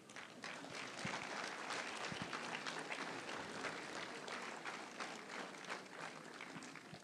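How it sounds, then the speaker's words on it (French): An audience at a town hall New Year's greetings ceremony applauds, a steady dense wash of clapping from many hands that carries on throughout at a moderate, somewhat distant level. "on va t'applaudir aussi."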